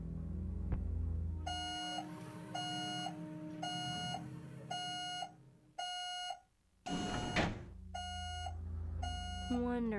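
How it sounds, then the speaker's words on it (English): Repeated electronic metal detector alarm from the Buffy the Vampire Slayer: Chaos Bleeds video game, set in a shopping mall: loud, evenly spaced beeping tones in a steady rhythm, with a short gap and a brief burst of noise partway through. "Now I'm setting off metal detector alarms."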